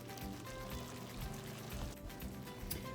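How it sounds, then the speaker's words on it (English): Hot water poured into a pan of simmering risotto rice, giving a steady, close pouring and bubbling wash that lasts the whole stretch with no talking. "I'm just gonna add some hot water."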